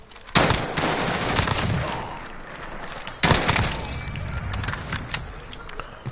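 Rifle fire in Call of Duty Modern Warfare, two loud bursts of rapid shots, the first near the start and the second midway, each trailing off into a dense rattle of gunfire and crackling impacts.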